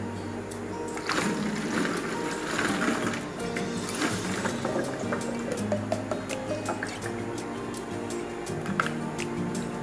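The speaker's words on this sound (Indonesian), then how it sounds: "Air kelapa kita masukkan." Coconut water is poured into a container of sugar for a homemade plant fertilizer, producing close splashing and dripping liquid sounds with irregular trickles throughout.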